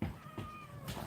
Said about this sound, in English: That's a wet kitty. There's a kitty.